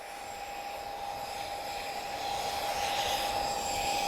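A Spitfire flying an airshow display, a distant steady engine drone that swells gradually louder toward the end, heard alone.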